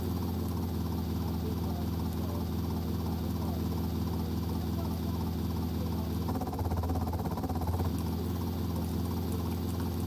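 A helicopter in GTA Vice City gives a steady droning rotor and engine hum throughout, moderately quiet and unbroken, with a brief rougher patch near the end.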